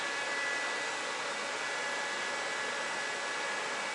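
Vacuum pump running steadily to pull refrigerant out of a truck's air-conditioning system, a constant broadband hiss-like whine with no change in level and no talk.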